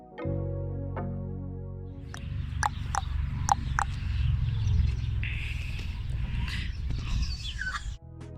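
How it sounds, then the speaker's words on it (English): A cockatoo at a zoo calls out in a bird voice over a steady low rumble of crowd or machinery, with sharp short squawks and chirps clustered in the middle and fainter calls nearby. "So this bird above me can actually say hello, and it's a cockatoo."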